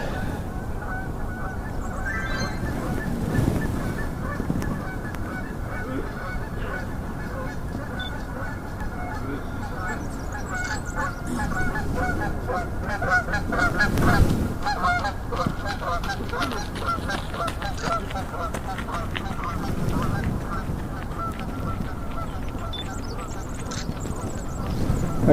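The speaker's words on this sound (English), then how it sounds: "More geese." Geese honk repeatedly at a moderate distance, their calls coming in scattered bursts over a steady outdoor background.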